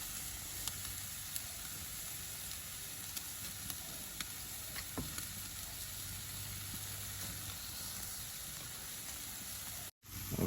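Thin fajita meat sizzles over an open fire with a steady, even frying hiss and a few faint pops, close and alone, ending in a brief dropout.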